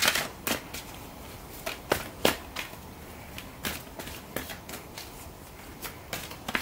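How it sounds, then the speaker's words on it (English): Tarot cards shuffled by hand in short riffling bursts, crisp close flicks and snaps repeating irregularly against a quiet room. "Let me just shuffle these a little bit."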